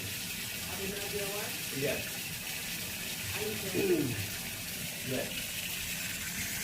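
Water running from a kitchen sink faucet while checking a sink for a clog, a steady faint gush with quiet speech over it.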